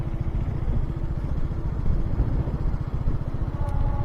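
A motorcycle rides along a road near a bridge over the Rupnarayan river on a solo trip, its low, steady engine rumble droning close and unbroken throughout.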